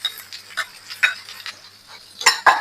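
Cut asparagus tossed and stirred in a buttered pan, with a series of close scraping and clinking utensil strokes in an irregular rhythm.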